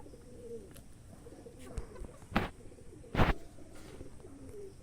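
Pigeons perched up on a rain-damp rooftop on a sunny morning give soft, faint coos and a few short calls, with a couple of sharper bursts in the middle against a quiet outdoor background.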